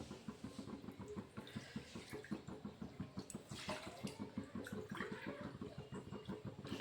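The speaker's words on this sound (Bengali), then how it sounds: "আর দুই কাপ জল দিয়ে দেব" Water being poured into a pan of moong dal and milk for a homemade sweet, a quiet steady splashing stream with a fast rippling pulse running throughout.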